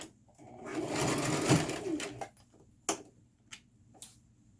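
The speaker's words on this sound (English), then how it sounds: "Now I'm going to start sewing." Sewing machine back-stitching hair and thread on a frontal wig, a steady close whirring run of stitching for about two seconds, followed by a few short separate bursts of the machine.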